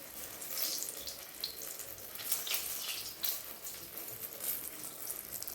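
Oil bubbling in a hot pan while vegetables fry for a winter vegetable khichdi, a continuous crackling hiss with bright spitting pops, moderately faint and without voices.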